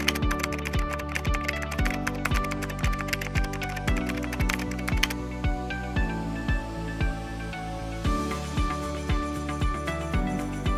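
Keys on a computer keyboard clatter in quick runs of taps, then slow into separate keystrokes, sounding close and steady while a search term is typed.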